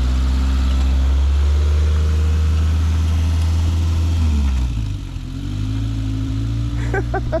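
A Suzuki Samurai 4x4 crawls off-road through potholes at Montaldo, its engine a loud, close, steady low drone that dips and shifts pitch midway before settling again.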